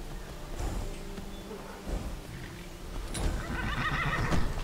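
A horse in the Skyrim video game whinnies loudly over a bed of game sounds and hoof clops, with a second neigh-like burst near the end; no talking.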